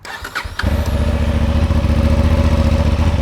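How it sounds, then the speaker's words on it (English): A 2023 Honda CB750 Hornet twin-cylinder motorcycle engine fires up and settles into a steady, loud, throbbing idle with a deep, even exhaust pulse from both pipes. "So that's it running on both pipes."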